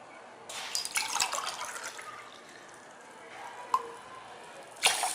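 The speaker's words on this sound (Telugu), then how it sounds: "ఈ కడుక్కున్న బియ్యంలో 2 గ్లాసుల వాటర్ పోసుకోవాలి" Water poured into washed rice in a pot gives a splashing, gurgling pour near the start, fading into light trickles and a couple of sharp drips or clinks later.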